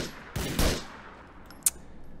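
A short burst of gunfire in the video game GTA IV, two close cracks in quick succession followed by a single sharper shot a second later, with quiet ambience between.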